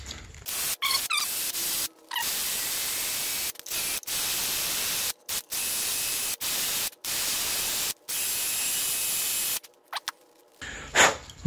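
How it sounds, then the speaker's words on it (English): Compressed air blasts off a snowmobile stator part from an Arctic Cat ZR 600 EFI, loud hissing bursts of varying length starting and stopping repeatedly, close and alone. "Go ahead and blow this off with some compressed air."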